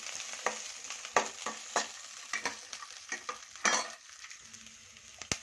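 Green chilies and a few coconut pieces roast in a hot pan, giving a steady close sizzle broken by repeated scraping and stirring clatters, with no talk.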